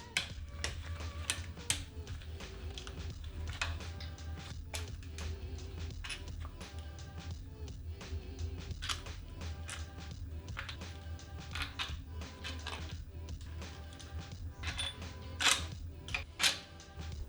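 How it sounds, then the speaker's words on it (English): Ten 10mm bolts come out of a Toyota 2ZZ engine during teardown, with a steady run of quick ratchet clicks and small metallic ticks over a constant low hum, close and moderately loud. "Now we remove the remaining 10 10mm bolts."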